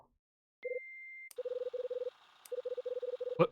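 An answering machine in the video game Last Window: The Secret of Cape West starts playback with a beep and a long steady tone, then gives rapid runs of short electronic blips in clipped bursts, loud and close.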